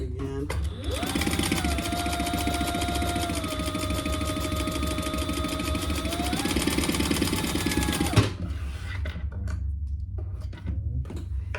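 A sewing machine runs steadily for about seven seconds, re-stitching over a loose seam with poor thread tension, then stops and leaves faint handling noises.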